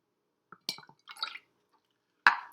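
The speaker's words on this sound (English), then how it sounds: "I'm pouring it into the calorimetry vessel." Cold water is poured into an insulated calorimetry vessel in a lab, heard as a few brief splashing, dripping bursts separated by silence, with a sharper splash near the end.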